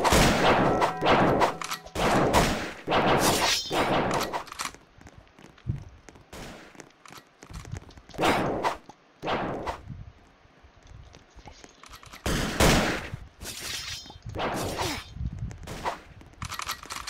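Gunfire in a shooter video game comes in several sharp bursts of rapid shots, loud and dense, with quieter gaps between the volleys.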